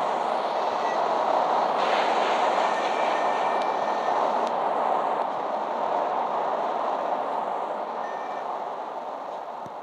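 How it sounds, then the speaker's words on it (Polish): Steady rumble of a steam locomotive running alone without wagons in the Euro Train Simulator 2 game, a continuous, even engine and track drone with faint high tones, gradually easing slightly toward the end. "Zaraz będzie na dworcu ten parowóz."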